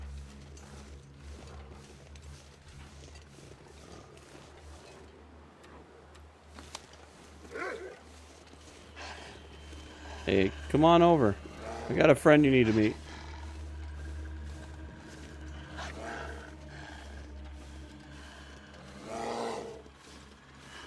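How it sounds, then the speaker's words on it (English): A wolf in the survival video game The Long Dark growls and snarls in a few loud bursts near the middle, mixed with game ambience and a voice talking before and after. "Quit barking at me. You're growling, you're barking."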